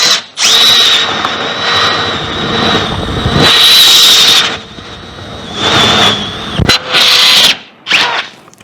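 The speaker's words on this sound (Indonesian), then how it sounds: "percobaan kita untuk menyandingkan bor cordless brushless dari Milwaukee dengan mata bor kipas dari Inco." A Milwaukee M12 Fuel brushless cordless drill driving an Ingco spade bit, loud and close, with a high motor whine that surges in long bursts and drops briefly between them.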